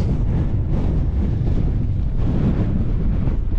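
Strong wind buffeting across a rocky Scottish mountain ridge in winter, a loud, continuous roaring rush with gusty surges pressing on the microphone, no voices.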